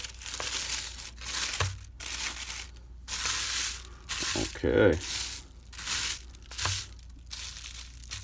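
Paper crinkling and rustling while a 1972 Zippo Slim lighter is unboxed from bubble wrap and paper wrapping, a run of close, crisp crumpling bursts with short pauses between them and a brief spoken word.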